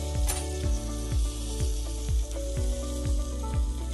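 Butter sizzling and crackling on tandoori chicken being basted and turned, a steady close fry hiss with soft repeated low thumps as pieces are moved, no talk.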